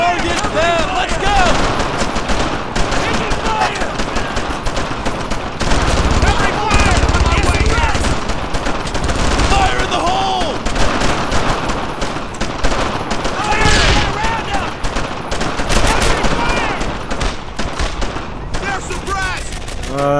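Rapid gunfire in the WWII shooter Brothers In Arms: Earned In Blood, with dense bursts of rifle and machine-gun shots and booms running continuously and loudly throughout, while voices shout over the battle.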